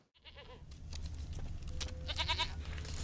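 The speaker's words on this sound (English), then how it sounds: "Here, goat." Goat bleating in The Witcher 3: Wild Hunt, a few wavering bleats over a steady low ambient hum from the game's outdoor scene, fairly close and moderately loud.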